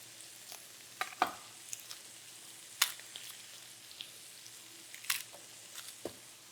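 A whole chili pepper cooks in a pan for fajitas with a quiet, steady sizzle and a few scattered sharp pops and crackles.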